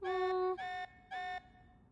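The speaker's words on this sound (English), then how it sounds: "You could turn off that alarm." An alarm in the video game Xenoblade Chronicles 3 sounds as three clear electronic tones, the first long and the next two shorter, repeating in an even pattern, loud and alone against a quiet background.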